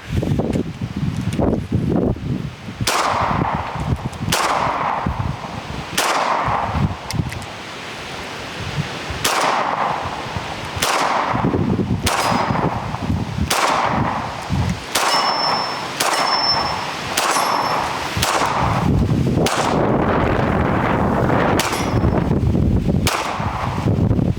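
Sharp pistol gunshots crack out one at a time at irregular intervals at an outdoor shooting range, roughly a dozen shots, with wind noise rushing between them.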